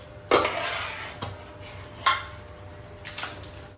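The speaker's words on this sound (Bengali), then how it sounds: "এখানে জলটা ফুটে গেছে, যে চালটা ভিজিয়ে রেখেছিলাম ওটা দিয়ে দিচ্ছি।" Soaked rice is added to boiling water in a pot, heard as a few sharp metallic clanks and scrapes of a utensil against the pot over a faint bubbling hiss, close and fairly quiet.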